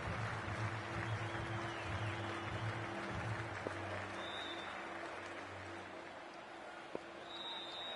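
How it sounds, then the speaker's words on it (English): Stadium crowd applause in the cricket video game Cricket 24 during a BPL Rangpur versus Noakhali match, a steady, moderately distant clapping wash that runs throughout, with faint tonal hums beneath. "The crowd has arrived and it's near capacity."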